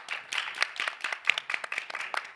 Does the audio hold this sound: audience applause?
yes